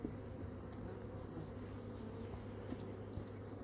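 A steady, low insect buzz of many honey bees at an open hive hums continuously, close by and fairly quiet, with no voices.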